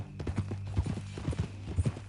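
Horse hooves clip-clopping at a walk in the video game Red Dead Redemption 2, a close, steady rhythm of soft thuds over a short stretch.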